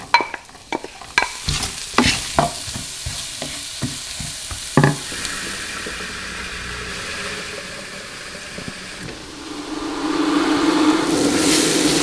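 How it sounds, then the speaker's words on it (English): Ginger, onion and garlic hit a hot pan with sharp clatters and stirring scrapes, followed by a building, steady sizzle of frying that grows louder toward the end. "now we're just gonna fry off ginger,"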